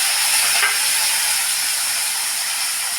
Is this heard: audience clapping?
no